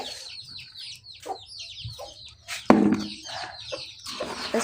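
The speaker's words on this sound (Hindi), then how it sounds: "इसके साथ एक मुर्गी भी है।" Several birds cluck and chatter together at close range around feeding time, a hen among pigeons and other birds, with a louder burst of clucking partway through and steady background noise throughout.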